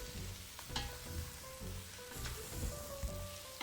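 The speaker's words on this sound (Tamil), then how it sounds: "இனி பிரட்டி வச்சிருக்கிற காடையை இந்த வெங்காயத்துடன் சேர்த்து கொள்ளுங்க. சேர்த்து நல்லா கிளறி விட வேணும்." Quail meat stirred into onions in a hot pan for a Tamil-style curry, sizzling and frying steadily close up with scraping stir strokes against the pan, no voices.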